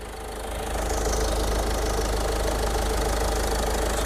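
A 2015 Ford EcoSport Titanium diesel engine idles at close range, a steady, even low rumble with a faint knocking texture that holds unbroken throughout, with no talking.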